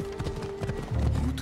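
Horse hooves clip-clopping in the game Assassin's Creed Odyssey, soft rhythmic steps with a low snort or whinny rising near the end.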